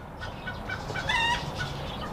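Several chickens cluck in short, bright bursts outdoors in a garden, with a louder rising cluck in the middle over soft background noise.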